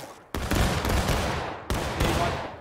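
Musket volleys in a Civil War battle game: a heavy crashing volley of many rifles that rumbles on and decays into a sustained crackle, followed by a second loud volley, close and dense, with no talk.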